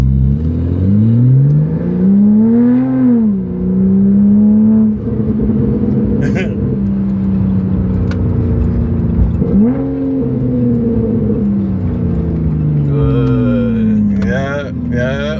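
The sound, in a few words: Porsche 911 with Alibaba exhaust revving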